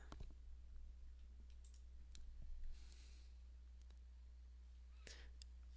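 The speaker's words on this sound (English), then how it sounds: "Right click." A computer mouse gives a few faint, crisp clicks against a quiet background hum, one clearer click near the end.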